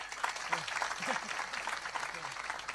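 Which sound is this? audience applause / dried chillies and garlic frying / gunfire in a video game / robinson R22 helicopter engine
audience applause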